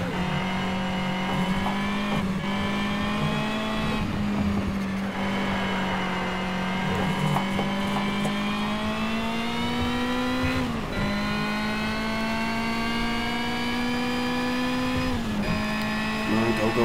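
Race car engine in Need for Speed Shift 2 Unleashed, a close, steady droning whine held through long stretches with brief drops at gear shifts, while someone talks throughout.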